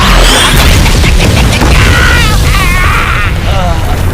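A loud, booming blast in a Mobile Legends: Bang Bang cinematic fills the clip, with crashing debris and a dense roar continuing throughout, while voices and higher chirping sounds overlap.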